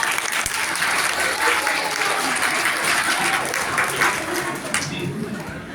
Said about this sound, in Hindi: मास्टर हारून साहब के लिए तालियां भाई।